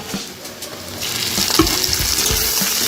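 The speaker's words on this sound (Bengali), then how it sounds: "সমস্ত মশলা দিয়ে কিন্তু আমি ভালো করে কষিয়ে নিচ্ছি" Spices, onion and chopped tomato fry in a pan for a pancharai tadka, starting as a softer sizzle that swells louder, with scraping stirs and a few knocks of the spatula.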